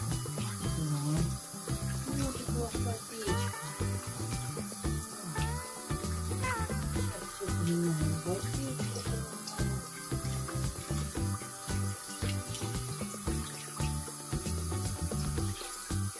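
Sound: tap water running to fill the puppies' water bowl

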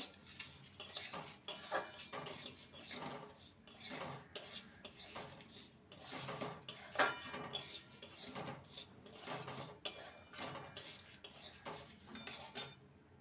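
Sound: stirring semolina halwa with sugar in a pan

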